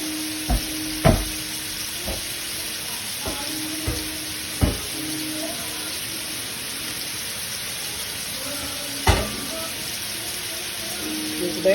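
Salisbury steak patties browning in a pan over medium heat, giving a steady low sizzle with scattered sharp pops and clinks, close by, with a few faint sounds of movement.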